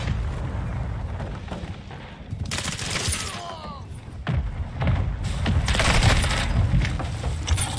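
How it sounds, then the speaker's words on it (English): Mortar strike explosions in the video game Call of Duty Modern Warfare II, heavy booms and rumbling blasts layered over continuous gunfire and battle noise, building louder toward the end. "Hostile mortar strike in the area"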